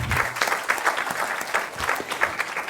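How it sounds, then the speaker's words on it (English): An audience at an international conference on the Rohingya crisis in Bangladesh claps in a short burst of fairly close, lively applause. "Can we give them a round of applause?"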